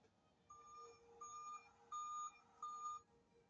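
Four evenly spaced electronic beeps like a construction truck's backup warning, each a clean steady tone lasting under half a second, quiet and isolated over a faint background hum.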